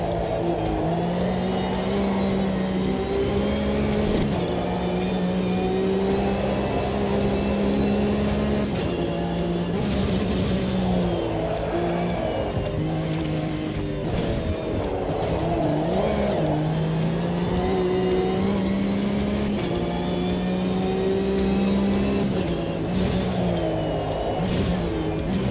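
A race car engine in the Automobilista 2 sim racing game revs steadily through rising and falling pitches, loud and close, while the tyres are warmed, with no pause in the engine note.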